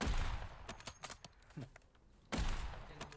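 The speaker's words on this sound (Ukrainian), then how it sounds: "Тепер вони, сука, по мені стріляють" Rapid bursts of game gunfire crackle in quick volleys with a short lull in the middle, fairly soft and compressed.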